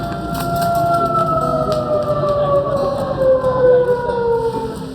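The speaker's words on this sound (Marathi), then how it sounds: "कारण हा आवाज असतो भोंग्याचा सायरनचा" A loud siren wails steadily in a rural village, its tone slowly falling in pitch, sounding continuously without any voices.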